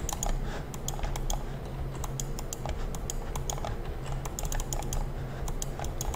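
Rapid taps in the mobile game Tap Tap Legions, heard as a dense, steady stream of crisp clicks at full speed, close and fairly quiet, with no voices.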